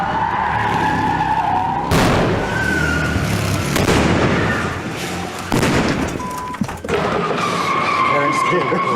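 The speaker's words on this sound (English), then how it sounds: "It's pretty crazy being in the go-kart." A go-kart camera vehicle skids hard while chasing cars during action filming, tires squealing and scraping in loud repeated bursts with engine roar and sharp bangs between them.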